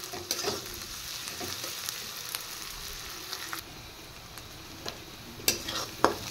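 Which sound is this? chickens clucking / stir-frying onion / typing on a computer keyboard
stir-frying onion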